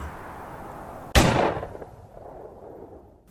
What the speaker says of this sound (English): A loud gunshot rings out as the left side of his face rips from his skull.